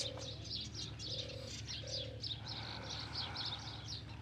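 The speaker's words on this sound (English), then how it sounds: "the chattering of the birds all around us." Doves cooing in soft repeated low phrases while smaller birds chirp busily overhead, outdoors under shady trees beside the Nile at Abu Simbel, a steady gentle background with no talking.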